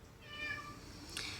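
A shop cat in a cylinder-head workshop lets out a drawn-out meow followed by a short second call, faint and close over a quiet room background.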